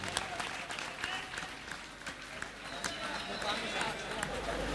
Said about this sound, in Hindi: जोरदार तालियां एक बार फखरी साहब के लिए।